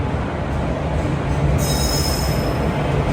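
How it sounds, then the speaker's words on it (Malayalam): A train bound for Kanniyakumari rolls into platform 1, a loud continuous roar of wheels and carriages with a high metallic squeal rising partway through, no voices. "കന്യാകുമാരിയിലേക്ക് പോകാനുള്ള ട്രെയിൻ ഇതാ പ്ലാറ്റ്ഫോം നമ്പർ 1 കടന്നു വരികയാണ്."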